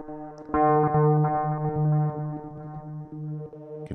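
A Pro Tools Xpand2 synth texture holds a sustained, harmonic-rich tone that swells as the mod wheel moves, its upper overtones brightening and shifting over a few seconds with effects-laden, slightly distorted character and no talk.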